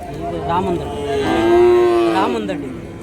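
Cattle low with a single long, loud moo up close at a native cattle market in Kundarapalli, Krishnagiri district, with faint crowd murmur behind.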